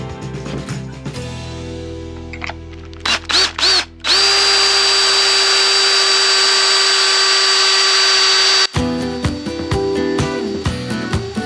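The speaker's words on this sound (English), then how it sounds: "Here I'm using a Craig jig just to drill some holes." A power drill bores holes through a Kreg pocket-hole jig for a Toyota Tacoma rear-seat-delete storage build, short bursts then one long sustained whine of several seconds, followed by quick trigger pulses, close up.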